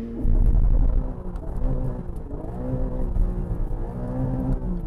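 Porsche 718 Cayman GTS 4.0 sports car engine while driving, a loud rising throaty rumble that eases back and then builds again.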